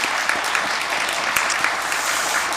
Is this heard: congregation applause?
yes